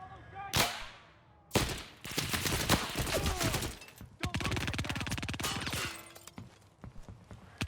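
Rapid bursts of gunfire in the first-person shooter game CrossfireX, sharp cracks in dense volleys and single shots, loud and near, with brief pauses between exchanges.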